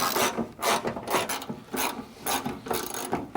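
Ratchet clicking in quick bursts as fender bolts come off a 1986 K30 truck, several rapid runs of close metallic ratcheting separated by short pauses, alone with no talk.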